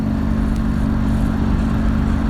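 Aprilia Mana 850 motorcycle cruising along, its steady engine drone and road rumble continuous and fairly loud throughout, with no pauses or voices.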